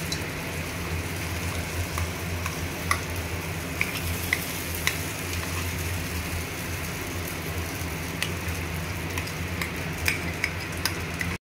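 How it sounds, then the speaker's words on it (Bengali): Ground kalai lentil paste sizzles steadily in a hot wok, a continuous close frying hiss with occasional sharp clicks and taps of stirring, no voices present. "এবারে আমি কড়াইয়ের মধ্যে দিয়ে দেব হচ্ছে এই কলাইয়ের ডাল বাটাটা।"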